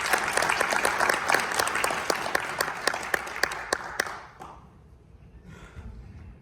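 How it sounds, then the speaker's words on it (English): An audience at a military field artillery ceremony claps in a dense burst of applause that fades out after about four seconds, leaving quiet room tone. "Please join me in a well-deserved round of applause."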